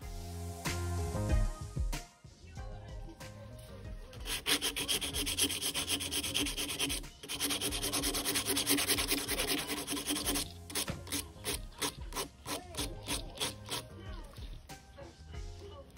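An acrylic nail tip is filed into a tapered square shape, making a close, continuous scratchy rasp of quick file strokes that stop and restart in bursts.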